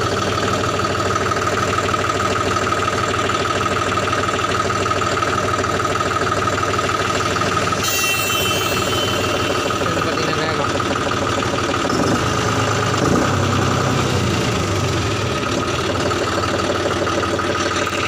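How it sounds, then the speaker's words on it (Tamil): A paddy harvester's engine runs at a steady idle, a loud continuous mechanical drone with a rough throbbing texture and a brief higher hiss partway through, close by and with no voices. "வண்டி ஸ்டார்ட் பண்ணி நம்ம மூவ் பண்ண ஆரம்பிச்சிடலாம்"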